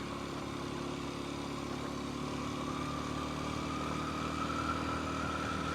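Kawasaki KLX230S motorcycle engine pulling uphill in third or fourth gear, a steady droning hum with continuous wind noise, even in level throughout.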